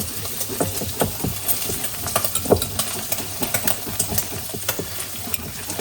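Risotto alla carbonara stirred in a pan after pecorino or parmesan goes in, giving repeated soft scraping and sticky sloshing strokes in an irregular rhythm over a faint background hum.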